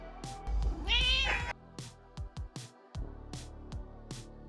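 A cat meows loudly and up close in one drawn-out call, followed by a series of short clicks and taps.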